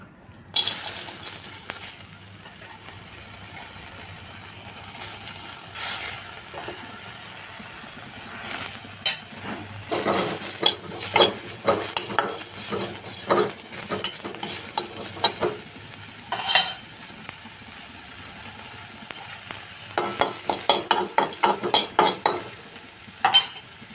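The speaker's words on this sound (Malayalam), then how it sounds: "ചെമ്മീൻ വറുത്തെടുക്കാം" Washed shrimp fry in a pan with a constant sizzle. A utensil stirs and scrapes against the pan in irregular bursts that grow busier toward the end.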